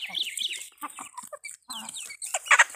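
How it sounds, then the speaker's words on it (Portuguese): Hens cluck and a rooster calls nearby in short, uneven bursts, with brief quiet gaps between the calls. "Olha o galo aí."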